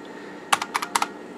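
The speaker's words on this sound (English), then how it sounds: "you can sit here and press buttons or anything. The keyboard is not locked out at all." Computer keyboard keys pressed on a DOS-era PC, six crisp clicks in two quick bursts over a faint steady hum.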